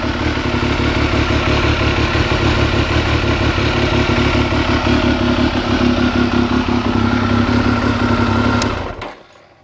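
A 2000 Triumph Daytona 955 motorcycle with 5,000 miles runs steadily up close, its engine a dense, even rumble with mechanical clatter, then fading out at the end.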